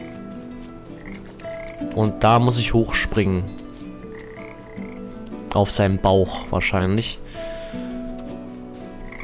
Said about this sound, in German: Da sind Frösche.